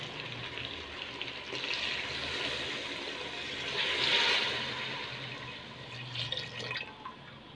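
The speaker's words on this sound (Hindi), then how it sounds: "अभी हम इसमें पानी डालेंगे।" Water, 1.5 litres, pours steadily into a pot of beef nihari, a continuous splashing rush that swells in the middle and then settles, with no one speaking.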